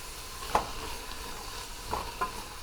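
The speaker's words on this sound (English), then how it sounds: "Let that butter melt. And then we leave it alone. We want the butternut to brown, caramelize." Butternut squash cubes fry in melted butter in a pan, giving a soft, steady sizzle with a few sharp spatters and pops close by and no talking.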